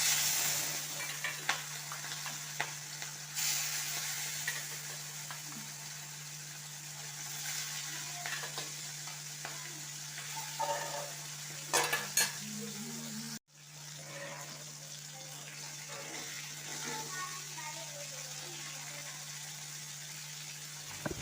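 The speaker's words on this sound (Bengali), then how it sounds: "পুঁটি মাছটা ভালো করে ভেজে নিচ্ছি।" Small puti fish sizzle steadily in hot white oil with turmeric and salt in a wok, a constant crackling fry with occasional scrapes and clinks of a stirring utensil, fairly quiet and close.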